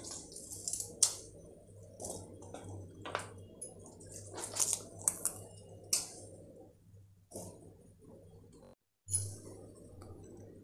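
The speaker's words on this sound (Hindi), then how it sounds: "अच्छे से हाथों से दबा दबा कर" Wet squishing and squelching from hands pressing water out of soaked soya chunks, with irregular drips and small clicks, close by and fairly quiet.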